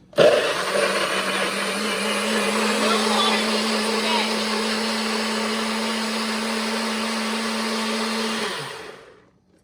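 Countertop blender whirring steadily as it purées fresh strawberries for strawberry lemonade, a loud, continuous motor drone that starts abruptly, holds for about eight seconds, then winds down.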